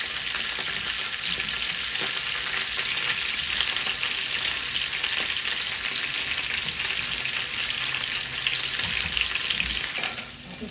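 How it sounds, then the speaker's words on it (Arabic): Cauliflower pieces frying in hot boiling oil for crispy fried cauliflower, a steady dense sizzle running loud and unbroken throughout, easing slightly near the end. "الزيت بتاعنا غلي. ننزل عليه بقى بالقرنبيط"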